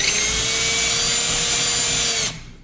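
A power drill widens a hole in drywall to take wall anchors, a steady close whine running for over two seconds before it cuts off abruptly.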